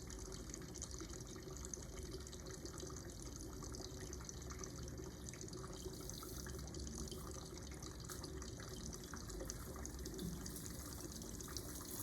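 Water jet squirting out of a tank into a container below, a steady continuous splashing and pouring under a faint background hum.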